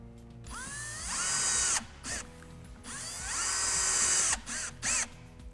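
A power drill driving screws into a window bracket, two rising whirring bursts with short pauses and brief blips after each, close and moderately loud.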